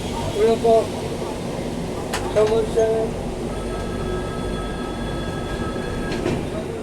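Mandovi Express pulling out of Rajapur Road station, a steady rumble of rolling carriages with a faint high wheel squeal, heard from inside the train while a voice talks briefly near the start.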